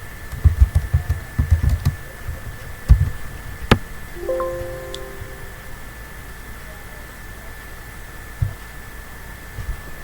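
Typing on a computer keyboard in Notepad, a quick cluster of close key clicks at the start, then a few scattered taps over a quiet hum.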